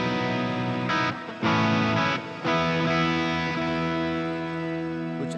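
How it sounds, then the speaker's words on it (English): Electric guitar through a green Tube Screamer overdrive pedal into Mesa Boogie amp models on a Fender Tone Master Pro, warm, mildly gritty tone, a few strummed chords ringing out and sustaining, loud and close. "turn on the green box for some good old tube screamer"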